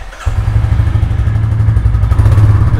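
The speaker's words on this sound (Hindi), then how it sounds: "बाइक को स्टार्ट करने और आप सबको इसका एग्जॉस्ट नोट सुनाने के लिए गाइस। स्टार्ट करते हैं इंजन।" A Royal Enfield Classic 350 Halcyon single-cylinder motorcycle starts up and settles into a loud, close, steady thumping idle from its exhaust.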